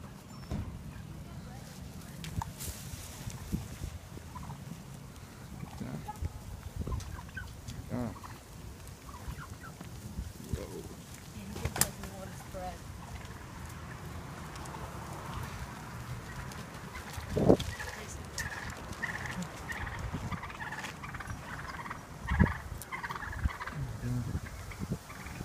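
Many turkeys gobble in overlapping bursts outdoors, some calls near and loud, others farther off, with people chatting quietly in the background.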